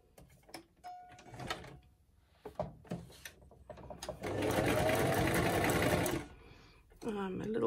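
A sewing machine stitches straight and zigzag seams on recycled toilet roll cores in a short, loud burst after scattered handling clicks and knocks, then briefly again at the end, with a person talking.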